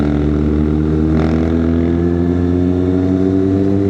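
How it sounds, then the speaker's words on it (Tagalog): A 2022 Kawasaki ZX6R motorcycle engine accelerates in 4th gear, a loud, steady close-up drone whose harmonic pitch climbs smoothly over the few seconds, with no talking. "Ang lakas ang makina nito"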